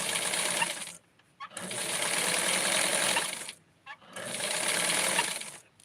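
Sewing machine stitching the hems of a small doll skirt, the needle whirring in three steady runs separated by short pauses, close and fairly loud, with no talking.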